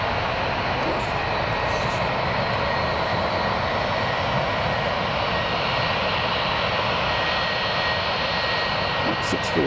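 A Norwegian jet airliner takes off at London Gatwick, its engines a continuous loud roar that holds steady throughout, with faint voices in the background.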